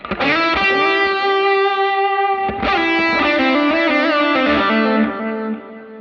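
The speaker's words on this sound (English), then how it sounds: "With a much bigger reverb, huge delays going on because there's double delays." Sustained guitar chords through a Line 6 Helix drenched in big reverb and double delays, bright and washy, changing once midway and ringing out into a lingering ambient tail.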